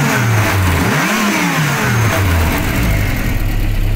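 A Volkswagen G60 engine with K-Jetronic injection revving loudly and close, rising and falling through several throttle blips before settling toward idle.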